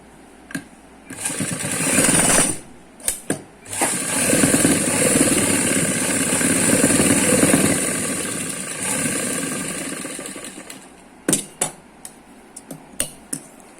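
A sewing machine runs in a long continuous burst while stitching palazzo pants, bracketed by short clicks and taps of handling the fabric, with no talking.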